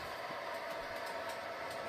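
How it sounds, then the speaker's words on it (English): Model train running on a layout with Atlas SD26 locomotives, a steady, faint electric motor hum and soft rolling rumble of wheels on track, continuous and close, with no talk. "We got a train coming out of here."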